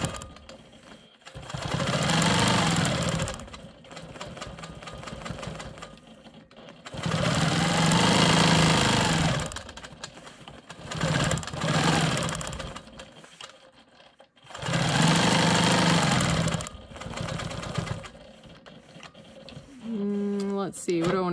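A Quilt Maker Pro 20 quilting machine stitching ruler work runs in loud, close bursts of rapid mechanical whirring, separated by quiet pauses, with a few brief ticks near the end.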